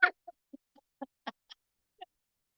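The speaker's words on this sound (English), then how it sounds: "do you see the birds in the back?" Chickens cluck in the background in a sparse series of about eight short, fairly faint calls spread over a couple of seconds, with quiet gaps between them and no talk.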